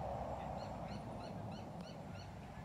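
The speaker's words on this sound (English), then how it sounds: "You hear that bird squeaking?" A bird squeaks in a public park among autumn trees in Sahuarita, Arizona: a short series of regularly spaced, thin high chirps over steady outdoor background noise, moderately distant.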